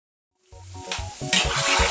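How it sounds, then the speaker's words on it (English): Chin chin dough pieces frying in hot oil while being stirred and turned, a loud steady sizzle building after a brief silence, mixed with low scraping and clattering of the spoon. "when you keep on stirring it like this, just turning it"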